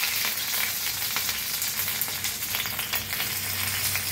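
Food roasting in a hot pan gives a steady, close sizzle and crackle, with dense frying hiss running throughout and no voices.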